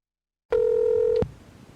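A single steady telephone tone sounds alone for under a second, like a phone dialing tone used as a comic sound effect, followed by a faint click and a quiet hiss.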